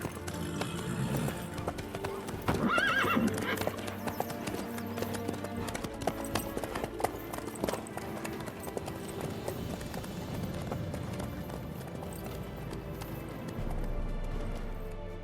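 Hooves of a horse ridden in The Witcher 3 clip-clop in a steady galloping rhythm throughout, with a short neigh early on, set under game music and a conversation between characters.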